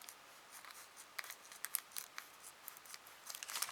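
Scissors snipping paper bases for a handmade craft pouch: a quick run of small, crisp cuts, close and quiet, irregular in rhythm and speeding up toward the end, with no talking.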